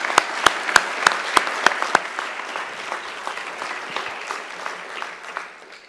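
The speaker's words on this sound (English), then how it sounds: "Let's give her another great round of applause." A graduation ceremony audience gives a round of applause. A few sharp, evenly spaced claps ring out at first, then many hands join into steady clapping that slowly fades out, with no voices over it.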